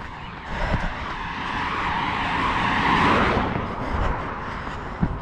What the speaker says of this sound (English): Just the odd car.